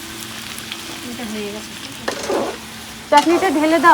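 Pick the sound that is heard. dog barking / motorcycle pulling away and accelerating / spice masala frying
spice masala frying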